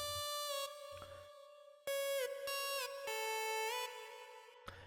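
A simple synth lead from a remix plays bright, buzzy sustained notes that glide between pitches, with a few low bass thumps underneath and no voices.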